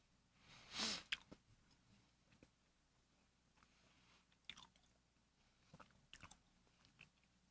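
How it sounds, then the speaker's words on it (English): A stiff, oxidized strawberry gummy is chewed close up, with one loud bite-like burst followed by scattered soft chewing and squishing sounds in a quiet room, no talking. "Sorry if my chewing is loud."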